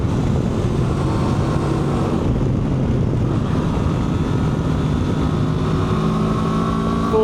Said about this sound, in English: Full throttle up into the top bits of the rev range. We are still accelerating.